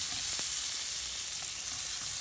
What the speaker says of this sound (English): if it's all sizzling and has the steam coming up right now